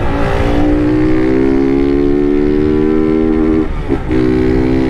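A Honda Start 160 motorcycle with a tin exhaust revs loudly and close, a sustained buzzing engine tone rising in pitch, dipping briefly near the end before picking back up.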